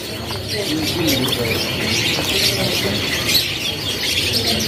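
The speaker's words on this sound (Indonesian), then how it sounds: "burung kenari yang tersedia di kasnya Pak Kasmin" Dense, continuous chirping and twittering from many caged canaries at a bird market in Pramuka, Jakarta, loud and close, with overlapping calls and no talking.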